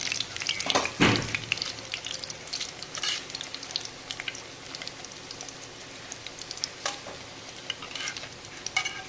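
King fish pieces frying in hot oil give a steady crackling sizzle, with occasional louder pops and spatters, close up and with no voices.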